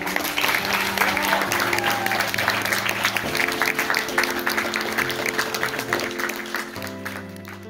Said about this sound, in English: We give one round of applause for